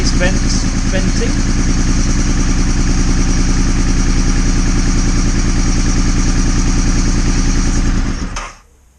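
A Honda VFR400 motorcycle engine runs close and loud at a steady, throbbing idle, then cuts out abruptly near the end.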